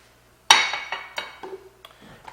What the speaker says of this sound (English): I'm going to go ahead and mix this together.